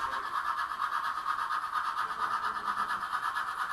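A model train runs along its track past an infrared sensor, giving a steady, fast rhythmic clicking rattle with a constant motor whir that holds at an even level throughout.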